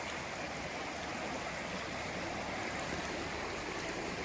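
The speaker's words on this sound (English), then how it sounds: "the water drops away there, and there's quite a fall down the cataracts down here" Stream water pouring steadily over cataracts beside a long footbridge, a constant broadband rushing roar, close and unbroken with no voices.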